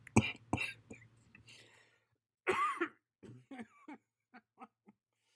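A couple of sharp coughs up close, then a harsher throat-clearing burst, followed by a few quieter short breathy sounds.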